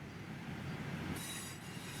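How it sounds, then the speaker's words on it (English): A train in the Train Sim World 5 video game rumbles along the track as its brakes apply, with a low steady roll and a faint high squeal rising partway through. "it's time to bring the train to a stop"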